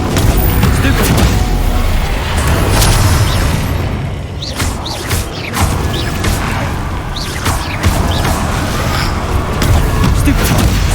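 In Hogwarts Legacy, the Stupefy stunning spell and other combat spells go off in booming magical impacts, with crashes and whooshes stacked over loud game music and action while a voice calls out spell names.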